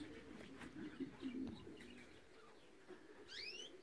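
Racing pigeons coo softly in low, rolling calls near a loft after a 309 km race from Olsztyn, with faint chirps and a brief wing flutter later.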